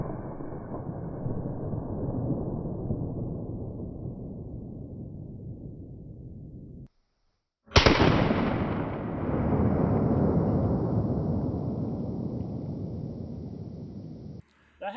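A 12 gauge shotgun firing a Dragon's Breath shell: one sharp, very loud blast that decays into a long roaring, crackling rush, following a steady loud rumble that cuts to brief silence.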